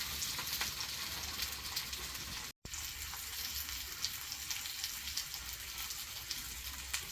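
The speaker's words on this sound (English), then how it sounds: "on a hot pan, place the potato slices and cook them for about 2 minutes" Potato slices frying in a hot pan give a steady, close sizzle with crackling and popping that runs almost unbroken, apart from one momentary cut.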